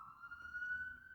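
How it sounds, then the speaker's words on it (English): A siren wails faintly in the distance as a single steady tone, heard alone and very briefly. "You hear the sirens."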